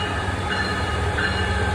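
Southbound Amtrak Pacific Surfliner passenger train approaching Fullerton station, a steady low rumble of rolling rail cars with a faint tonal hum, constant and fairly close throughout.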